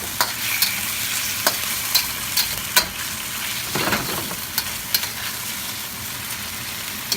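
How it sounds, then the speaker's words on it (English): Cornstarch-coated beef sizzles steadily in a hot pan while a utensil scrapes and taps it at intervals during stir frying, close up, with no talking. "then you can start just quickly stir frying them"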